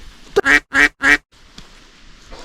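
A duck quacks three times in quick, evenly spaced loud calls, close by, on a riverbank during autumn fishing, followed by quiet outdoor background.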